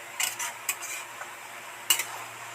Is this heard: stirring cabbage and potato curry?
yes